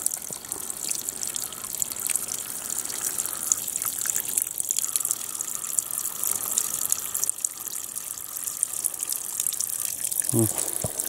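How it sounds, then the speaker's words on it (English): A small waterfall in Te Urewera forest, on the Lake Waikaremoana walk, gives a continuous splashing gush of water, steady and moderately close, with faint voices briefly over it. "Ah, a teeny tiny little waterfall."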